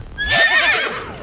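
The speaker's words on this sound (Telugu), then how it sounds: "ఆ సౌండ్ ఏంట్రా? గుర్రం." A single loud, close horse whinny, rising and then trembling as it falls away over about a second.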